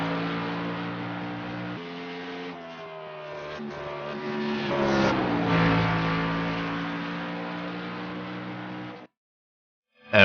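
Race car on a practice lap of the Road America circuit in an Xfinity Series session, engine holding a loud sustained drone with gear-change steps and rising revs, then cutting off abruptly near the end.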